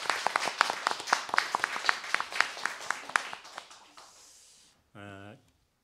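A church congregation applauds in thanks for a long-serving deaconess, a run of quick individual claps from a modest group that thins out and stops, followed by a short harmonic tone.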